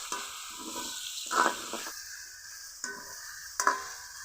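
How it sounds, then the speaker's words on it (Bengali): Semolina lightly frying with chicken in a pan, a soft sizzle broken by a few scraping stirs of a utensil, close and fairly quiet, no voices. "খুব বেশি কড়া করে কিন্তু ভাজা যাবে না হালকা করে ভেজে নিলে হবে"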